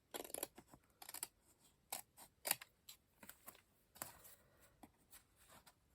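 Left-handed scissors trim ribbon while making a small accordion-spine book, giving a string of quiet, close, crisp snips spaced irregularly over several seconds, with no voices.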